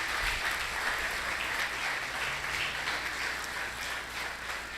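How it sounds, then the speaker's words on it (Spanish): A church congregation at a worship service gives a strong round of applause, a thick, steady wash of many hands clapping at a fairly loud level, slowly easing toward the end with no talking. "Dale un fuerte aplauso."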